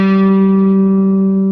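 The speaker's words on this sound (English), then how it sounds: "So let's hear the tone of an electric guitar." A single steady electric guitar note rings out loud and close, a flat, unwavering pitch with rich overtones sustaining for under two seconds with no talk.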